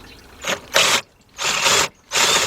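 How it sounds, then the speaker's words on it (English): A ratchet wrench clicks in three quick bursts with brief pauses between them, close and loud, during a partial rebuild of a 2003 Jeep Liberty's 3.7 engine. "If you're not comfortable using the coilers, use your ratchet instead."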